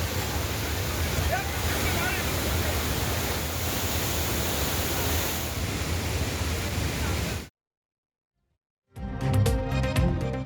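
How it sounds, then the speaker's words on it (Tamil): Flash floodwater pours over the Courtallam waterfalls after heavy rain in the Western Ghats hills, a loud, continuous rushing roar that runs for about seven seconds, then cuts to silence before other brief sounds follow. "மேற்கு தொடர்ச்சி மலைப்பகுதியில் கொட்டிய கனமழையால் குற்றால அருவிகளில் காட்டாற்று வெள்ளம்"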